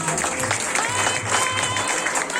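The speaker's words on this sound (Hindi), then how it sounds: "जोरदार तालियां होनी चाहिए." Loud applause from an audience at an awards and achievers celebration, dense clapping sustained throughout with a low hum and some crowd noise underneath.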